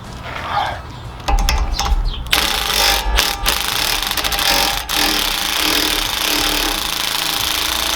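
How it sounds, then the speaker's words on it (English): Ratchet or power tool with a 19mm socket working the lower control arm bolts on a Lexus GX470, a loud, steady mechanical rattle and whir running nearly throughout, with a few clicks at the start. "off these two bolts right here with a 19mm socket"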